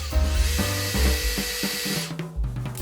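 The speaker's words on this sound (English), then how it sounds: "That actually doesn't seem like it's drilling very well." Power drill running with a 3/16 inch bit into a Dewalt pole saw chainsaw bar, a steady close whine with slight stalls and pitch dips as the bit struggles to cut the hard steel.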